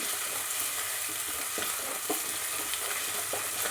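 Onions frying in a pan with turmeric for a plantain curry give off a steady, dense sizzle with occasional stirring scrapes, close and continuous.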